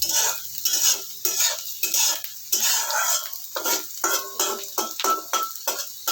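Fried okra (bhindi) lifted from oil in a pan, with repeated close scraping and clinking of a metal utensil against the pan over a faint sizzle, in quick irregular strokes throughout.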